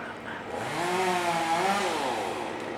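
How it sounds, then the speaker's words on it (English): A chainsaw runs at a distance outdoors on grassland, its engine note rising and swelling steadily for a couple of seconds before easing slightly, fairly loud and alone. "it's not necessarily the chainsaw that's distracting him"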